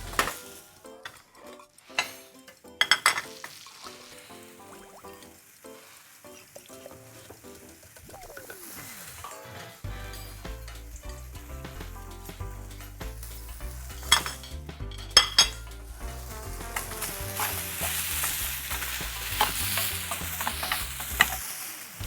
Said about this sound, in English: I'm going to just stir it up a bit to give you that amazing taste.